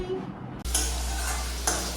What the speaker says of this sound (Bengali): এখানে হচ্ছে ঢেঁড়স আলু ভাজা বা ভেন্ডি আলু ভাজা হচ্ছে